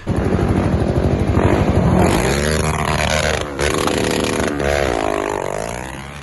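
Quad bike engine revving and whining close by as it spins through donuts during off-road riding, with pitch rising and falling and scraping noise throughout.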